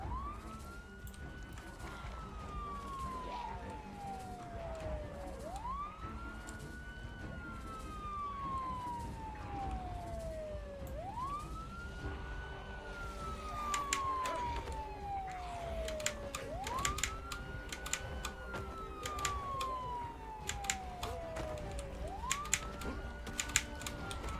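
A wailing police siren in the video game Project Zomboid sweeps up and down in repeated cycles, steady and moderately loud, with clicks and tapping layered over it.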